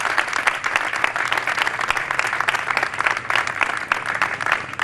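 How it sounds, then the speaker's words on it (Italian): A long, steady round of applause from a crowd gathered for a protest outside the prefecture in Catanzaro. The clapping is dense and continuous throughout, with no speech over it. "Un lungo applauso apre la protesta davanti alla prefettura a Catanzaro."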